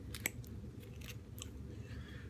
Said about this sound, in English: I chew like a little bunny.